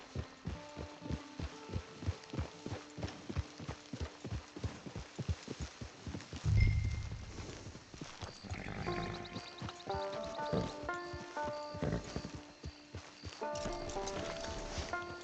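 Horse hooves clip-clop in a steady, even rhythm in Red Dead Redemption 2, loud and close for the first half. A thud follows, then game music with swelling tones carries the rest.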